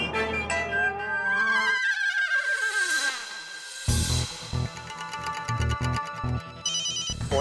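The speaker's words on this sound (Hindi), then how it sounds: "फोन बज रहा है।" A melodic ringtone plays continuously, its electronic tune shifting through phrases and repeating tones, fairly loud and with no voices over it.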